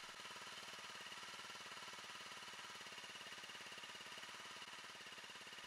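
Honda CRF250L motorcycle engine idling steadily, a faint, even low putter with a regular rhythm and no talk over it.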